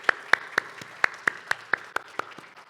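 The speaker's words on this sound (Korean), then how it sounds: "우리 박수로 하나님께 한번 영광 돌리겠습니다" A handful of sharp, separate claps from a church congregation, roughly a dozen evenly spaced hand smacks over a few seconds, close and fairly quiet.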